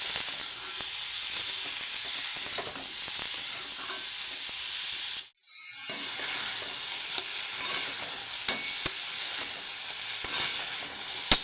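Onions, chillies, radish and potato with cumin powder, turmeric and salt being stirred in a hot pan, a steady loud sizzle with scraping stirs that breaks off briefly midway, then carries on.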